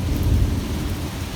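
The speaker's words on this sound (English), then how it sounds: "Non-stop thunder as well." Deep thunder rolls through a strong storm that brings pea-size hail, with rain falling steadily underneath the low rumble.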